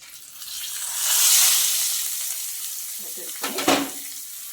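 Hot tempering with turmeric is poured into an eggplant tamarind stew (vankaya pachi pulusu) with the stove off, giving a steady broad hiss of sizzling that swells early and ends in a brief sharper burst of bubbling.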